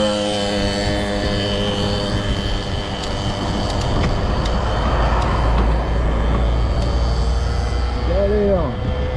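Road traffic passes on a road crossed by a rail-trail greenway between Le Cheylard and Les Ollières-sur-Eyrieux, a steady loud rumble of vehicles going by close, with birdsong and a brief rising tone near the end.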